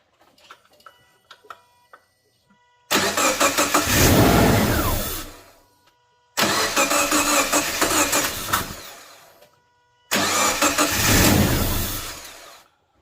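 A Subaru 2.5L engine, its intercooler removed, cranks three times in long bursts, the starter whirring each time without the engine catching, with quiet pauses between attempts.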